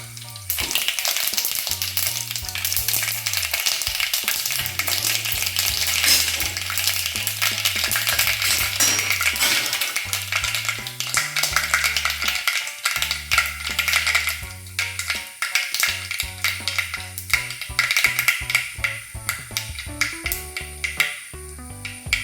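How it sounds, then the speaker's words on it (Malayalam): Mustard seeds splutter in hot oil in a pan, a dense, loud crackling hiss with rapid popping that runs continuously throughout over a low rhythmic musical backing. "കടുക് പൊട്ടി വന്നിട്ടുണ്ട്."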